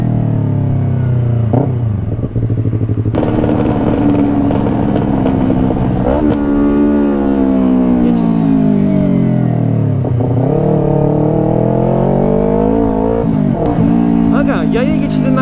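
A loud Yamaha R25 sport motorcycle engine with an aftermarket exhaust revving up and down in long sweeps, its raspy exhaust note rising and falling repeatedly, heard close throughout.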